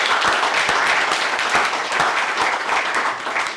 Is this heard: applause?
yes